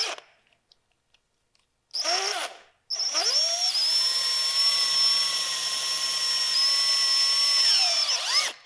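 Power drill with a 7/32 bit boring holes while fitting Woodcraft three-piece split clip-ons to a Yamaha R7: two close, loud bursts, a brief whir and then a longer high whine that winds up and spins down.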